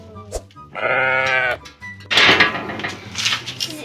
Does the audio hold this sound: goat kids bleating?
yes